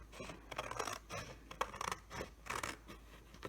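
Scissors snip through paper in short, quick cuts while trimming a paper frame, close and fairly quiet, with small rustles between strokes and no voices.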